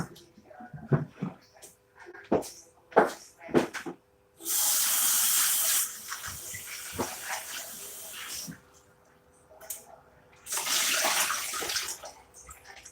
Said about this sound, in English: And that's good enough of the rinse for that potato.